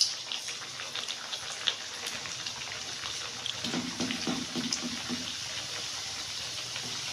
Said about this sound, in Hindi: ऑयल गर्म है और इसको डाल देते हैं ऑयल के अंदर